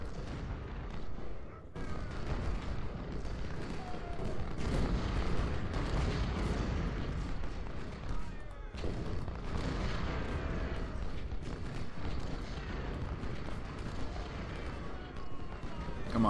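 Artillery fire thunders across a Civil War battlefield in the Ultimate General: Civil War game at Laurel Hill, Spotsylvania: a dense, continuous rumble of overlapping booms and distant blasts, with brief lulls, rolling on at moderate volume throughout.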